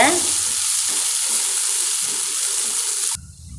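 Onions with curry leaves and a pinch of salt sautéing in a pan for karamani sundal, a loud, close, steady sizzle that cuts off abruptly near the end.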